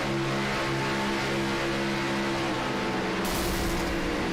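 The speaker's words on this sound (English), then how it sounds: "And that engine did let go right before it went into turn 1." A race car in a racing video game blows its engine just before turn 1, heard as a steady layered engine drone with tonal harmonics that breaks into a harsher, broader roar near the end.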